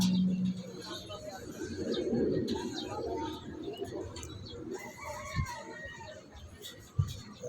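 Pigeons coo softly in a low, repeated murmur under nearby talking and background noise, with a couple of sharp knocks.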